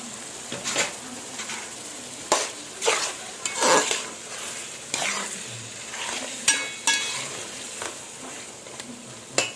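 Mutton curry with a blended tomato and coconut paste bubbling and sizzling in a pan, with repeated scrapes and clinks of a stirring spoon against the metal, steady and close.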